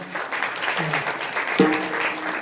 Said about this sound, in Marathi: त्या दोन्ही गुरु शिष्यांसाठी एकदा जोरदार टाळ्या करायला